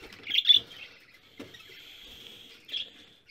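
Budgerigar chicks chirping indoors: a few short, thin, high-pitched chirps and tweets spread over a few seconds, close and fairly soft, with small scuffling sounds in between.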